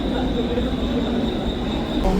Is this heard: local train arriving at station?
yes